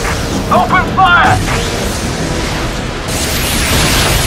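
Firing in the strategy game Anomaly Warzone Earth, with a low rumbling boom and blasts sustained under a brief shout and synthetic chirps, the roar holding loud throughout and ending in a rising swoosh.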